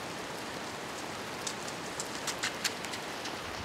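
Steady rain falling over a trail in the Coed y Brenin forest, a dense even hiss with a few sharper drops pattering nearby, with no voices.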